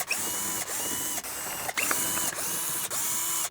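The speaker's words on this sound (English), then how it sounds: "we'll take a T25 bit and remove these 8 screws holding this belly pan on." A ratcheting tool with a T25 bit backing screws out of the belly pan on a 2018-2024 VW Tiguan, several close bursts of quick clicking separated by short pauses, with no talk.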